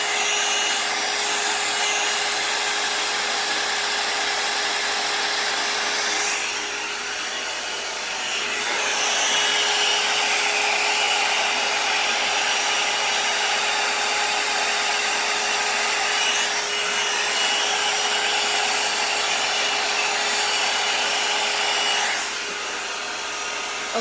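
A hair dryer blows loudly and steadily up close, its whooshing roar dipping briefly a few times as it's moved, with no talking.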